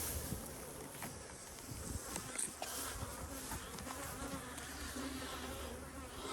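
Bees at an apiary in a cow pasture, a dense continuous buzzing swarm close by, with some wind noise outdoors.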